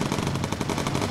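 Rapid machine-gun fire from a Lancaster bomber's turret guns in Bomber Crew, a dense continuous rattle of shots with engine drone underneath.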